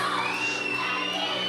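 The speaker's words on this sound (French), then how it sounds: "pendant que la foule scande son nom" A wrestling crowd at a JCW show chants and cheers a wrestler's name, a dense sustained roar of many voices that fills the whole moment.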